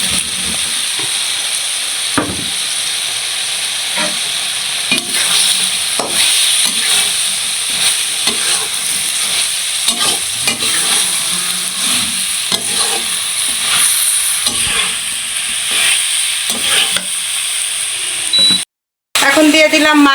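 Fried banana stirred into a sizzling spice masala for a fish curry, with repeated spatula scrapes over a steady, close sizzle that cuts out abruptly near the end.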